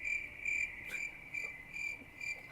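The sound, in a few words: recording of crickets chirping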